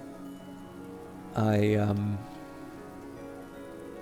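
Steady rain patters softly in the video game Book of Hours, a continuous hiss broken by a brief, loud tonal chime, with a voice speaking over it.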